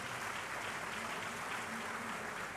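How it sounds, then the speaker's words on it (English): Steady, continuous applause from an audience at a 25th anniversary celebration, a dense even wash of clapping held at constant level throughout, with a faint hum underneath. "so clap loudly"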